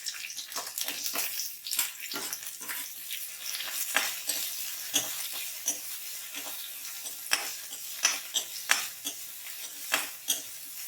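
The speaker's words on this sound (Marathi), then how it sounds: "कढईत उभा चिरलेला कांदा परतवून घेऊया" Sliced onion frying in hot oil in a kadhai, a steady bright sizzle with repeated scraping stirs from a spatula, moderately close and without speech.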